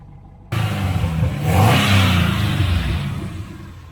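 A car engine with a muffler delete starts up and revs hard, rising to a loud roar and then settling into a rough, throaty idle close by.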